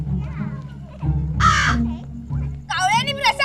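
A crow caws twice, harsh and close, in a dramatic television scene, with voices talking and shouting around the calls.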